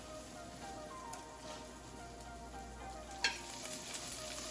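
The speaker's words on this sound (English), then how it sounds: "You literally start smelling your vegetables being sauteed." Vegetables sautéing in a pan for Jamaican coconut steamed fish, a faint, even low sizzle with a single sharp clink of a utensil midway, no voices.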